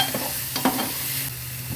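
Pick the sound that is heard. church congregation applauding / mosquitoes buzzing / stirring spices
stirring spices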